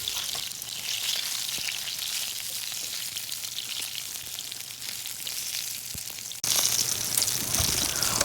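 Eggplant frying in hot oil for kare-kare, a steady bright sizzle and crackle throughout that jumps a little louder near the end, with no talking.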